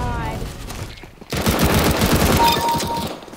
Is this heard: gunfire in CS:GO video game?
yes